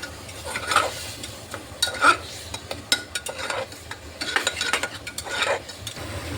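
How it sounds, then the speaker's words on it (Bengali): Tomato and sugar stir-fried in a pan for a potato and papaya vegetable dish, with repeated scraping and stirring strokes over a steady soft sizzle, close and moderately loud, no voices. "চিনিটা দিয়ে ভালোভাবে একটু কষিয়ে নিচ্ছি।"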